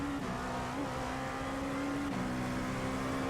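A Dallara P217 LMP2 race car engine in iRacing at Road Atlanta drones steadily at high revs. About two-thirds of the way through, its pitch drops slightly, like a gear change.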